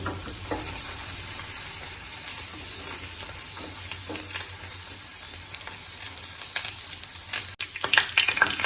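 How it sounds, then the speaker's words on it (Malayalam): Stuffed squid frying in hot oil in a pan over a low flame gives a steady, close sizzle with scattered bright crackles and pops that grow busier toward the end. "എണ്ണ ചൂടായതിന് ശേഷം ലോ ഫ്ലെയിമിൽ ഇട്ടിട്ട് ഇത് ഫ്രൈ ചെയ്തെടുക്കണം കേട്ടോ"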